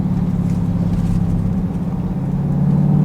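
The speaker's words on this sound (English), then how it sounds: "You can hear the supercharger whining a little bit" A 2023 Dodge Durango Hellcat's supercharged engine hums steadily from inside the cabin, a continuous mid-pitched drone with a faint whine running over it, with no talking.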